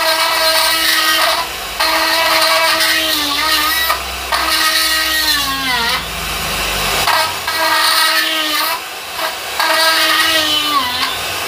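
Power tool hollowing out dead wild olive wood, a loud, close, continuous grinding whine that sags in pitch under load and recovers, broken by short pauses.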